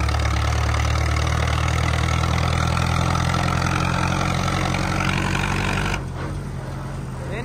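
Modified Mustang tractor with a four-cylinder engine and truck plunger idling, a loud, steady low rumble close to the microphone that drops slightly in level near the end.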